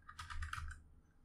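A quick, close burst of typing on a computer keyboard, a handful of rapid key clicks lasting under a second before falling quiet.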